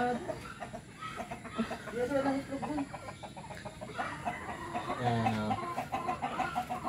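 Rhode Island chickens cluck in a backyard, a close, busy stream of repeated clucks and short calls with a low drawn-out note near the end, continuing steadily under faint background noise.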